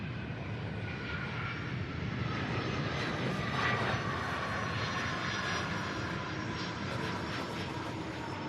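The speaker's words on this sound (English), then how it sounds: "Got that MD-11 out of Orlando" An MD-11 jet airliner lands at an airport, its engine roar a steady, fairly distant rumble and whine that swells slightly midway, with no voices.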